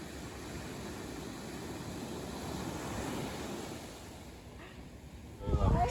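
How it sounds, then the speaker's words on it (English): Tiny clean ocean waves at Salisbury Beach, Massachusetts, a steady broadband surf wash with some wind noise, easing slightly before a louder close-by gust or splash at the end. "there were some tiny clean waves"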